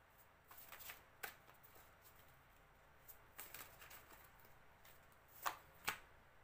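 Tarot cards shuffled in short, scattered bursts of papery riffling and soft slaps, quiet and close, with two sharper snaps near the end and no talk.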